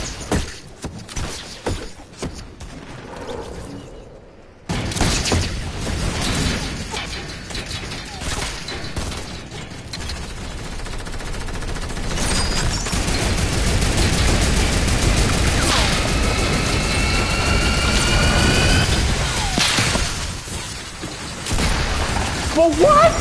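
Video game gunfire mixed into a loud, chaotic battle, with bursts of shots, crashes and booms that build into a dense roar, punctuated by occasional voices.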